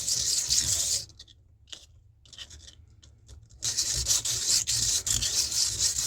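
Metal jewelry bezel bottoms rubbed in figure-eight motions on an abrasive surface make a steady, close scraping rasp, broken by a quieter stretch in the middle before the rubbing resumes loudly.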